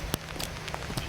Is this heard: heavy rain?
yes